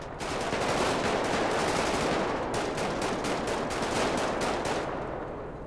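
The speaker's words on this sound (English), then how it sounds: "Oh god, it's a tank!" Tank cannon and heavy gunfire in GTA 5, a dense, loud barrage of rapid shots that keeps going almost without a break for several seconds, the bursts running together and fading slightly near the end.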